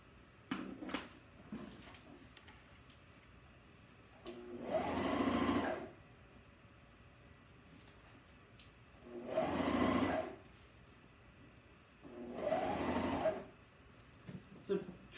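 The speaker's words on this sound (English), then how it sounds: "So try not to sew over the other side that's coming back through." A sewing machine stitches a T-shirt in three separate bursts of steady, rapid whirring, each about a second long, with quiet handling noises and a voice speaking in between.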